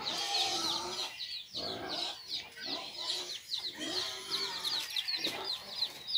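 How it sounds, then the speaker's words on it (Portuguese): Backyard chickens clucking continuously at close range, a busy overlapping chatter of short repeated calls with no talking. "As galinhas."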